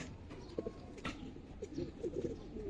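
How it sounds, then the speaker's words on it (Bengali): Young pigeons cooing softly in a group, a series of low burbling coos that grow more frequent toward the end over a steady background hum, with no talking. "আলহামদুলিল্লাহ ভাই দেখেন কবুতর বাচ্চা"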